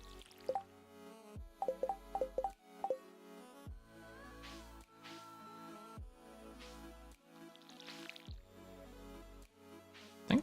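Watering crops with a watering can in Stardew Valley: bursts of small dripping, splashing water sounds repeat across the stretch over steady game music, with no speech.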